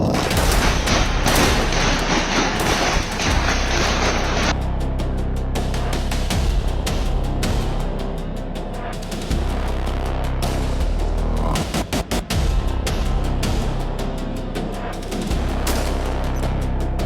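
Bursts of gunfire as Ansar forces shoot at protesters during the July 2024 unrest in Gazipur, loud rapid cracks and booms in volleys, heavier in the first few seconds and then continuing in scattered sharp reports.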